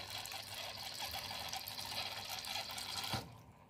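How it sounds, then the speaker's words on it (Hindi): Water from an RO sediment filter's motor flows steadily into a container, a continuous close hiss and splash that cuts off abruptly near the end, with no talking. "ये देखिए मोटर ऑन कर दिया और यहाँ पानी ले लेता हूँ ये देखिएगा तो ये इसमें पानी आ रहा है"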